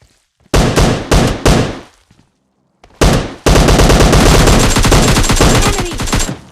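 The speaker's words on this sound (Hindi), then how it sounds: "बॉट भी मुझ पर ही फायर करने लगते हैं आके।" Bots fire on the player in PUBG Mobile Lite, loud and close. Short bursts of rapid automatic gunfire break off after a pause and then return as a long, sustained volley.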